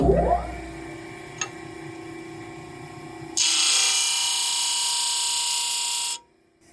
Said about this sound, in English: We're at the sander, and I'm just gonna put a little bit of a bevel on there.